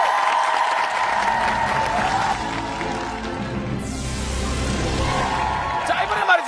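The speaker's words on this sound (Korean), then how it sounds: "두 분에게 큰 박수가 필요합니다." A Korean TV variety show's studio audience applauds warmly and steadily throughout, mixed with a rising electronic whoosh effect partway through.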